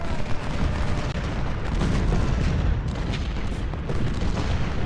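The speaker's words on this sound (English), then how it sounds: "10 pounders open on Chalmers." Booming 10-pounder cannon fire from a Civil War strategy game, a dense, continuous rumble of overlapping blasts that stays loud and steady with no voices.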